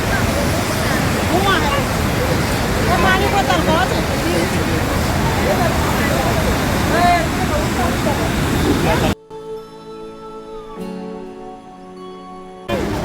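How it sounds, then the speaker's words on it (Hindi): Roaring, rushing water of the Saraswati river at its source near Mana village in the Himalayas, a loud steady torrent filling most of the stretch before cutting abruptly to a quieter section with a faint voice. "ये सरस्वती नदी है।"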